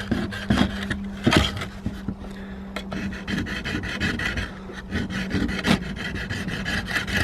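A diamond sharpener rasps along the edge of a garden tool blade, repeated close scraping strokes at an uneven pace, with faint background noise and no talk.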